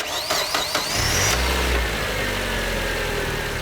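A car engine with its alternator belt removed cranks over and catches, then settles into a steady idle, loud and close, with brief clicks and a whine at the start.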